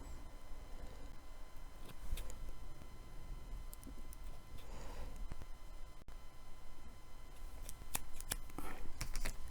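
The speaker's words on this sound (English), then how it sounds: "Now, you just trim your gills." Scissors trimming the gills while tying a fishing fly, a few faint, close snips spread out over quiet room noise.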